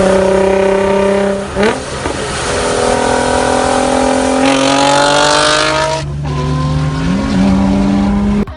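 A 2017 Infiniti Q60S Red Sport 400 with a 3-liter twin-turbo V6 in a Need for Speed racing game, loud and close, revving hard through rising gear pulls with shifts, a brief tire squeal near the end.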